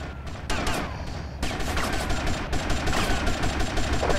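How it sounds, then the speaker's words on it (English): Rapid bursts of automatic gunfire from a shootout in the video game GTA Vice City, loud and dense with repeated volleys close by and no talk. "who is shooting at me?"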